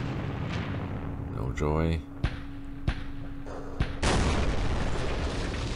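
Mortar fire in the wargame Campaign Series Middle East: several sharp booming impacts spaced a second or so apart over a steady background hiss, with a brief spoken remark in between.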